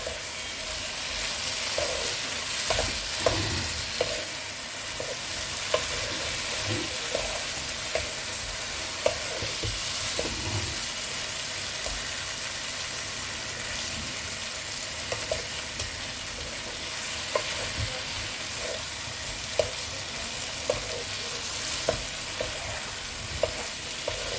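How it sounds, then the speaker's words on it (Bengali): Potato and pointed gourd curry with spices, seasoned with salt, fries in a pan while being stirred. A continuous sizzle runs under scattered scraping knocks of the spoon against the pan. No one speaks. "ভালো করে নাড়াচাড়া করে মিশিয়ে নিচ্ছি সব"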